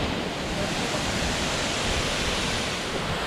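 Ramsey Cascades waterfall in the Great Smoky Mountains gives a steady, broad, unbroken rush of falling water that fills the whole clip without letup.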